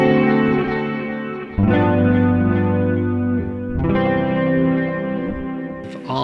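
An electric guitar runs through distortion, chorus and echo effects as it plays a sustained chord lead-in that shifts between several held chords. The tone is loud, thick and ringing, with no talk.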